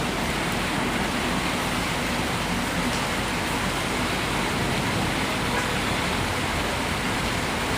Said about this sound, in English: You heard it's a little rainy, it's hella rainy.